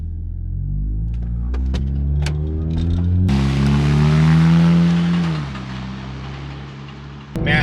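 A car engine with its catalytic converter cut out, 177 horsepower, revs hard and loud with rising, shifting harmonic tones, swells to a peak, then drops back to a rumbling idle before a final burst.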